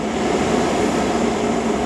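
Trains roll through Oxford station, a loud, steady rumble with wheel and engine noise that holds evenly throughout, with no voices over it.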